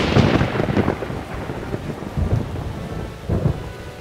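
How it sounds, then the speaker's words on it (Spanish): Cartoon thunderstorm with rolling thunder rumbles and steady rain, several low booms swelling and fading over a continuous wash of rainfall, with no voices. "Changos, escuchen esos truenos."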